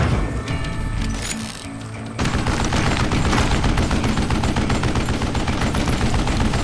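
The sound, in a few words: gunfire in video game Call of Juarez: Gunslinger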